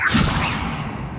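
A short swooshing whoosh of the Levioso levitation spell being cast in Hogwarts Legacy, quick and fairly loud, fading out within about a second.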